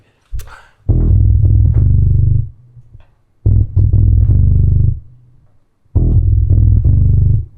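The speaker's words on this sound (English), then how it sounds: "Now if I play that bass line with my octaver in that register," Electric bass line played through an octaver pedal in a very low register gives thick, murky distorted notes in three phrases with short gaps, loud and close.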